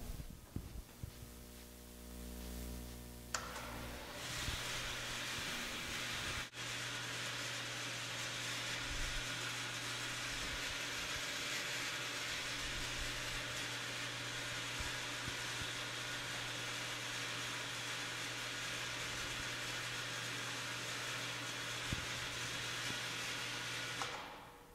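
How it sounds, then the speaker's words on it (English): A water pump in a flow meter test rig starts with a brief hum, then runs steadily as a loud, continuous broadband whoosh with a low drone underneath for the rest of the time, with no talking. "So what I'm going to do now is turn on our pump"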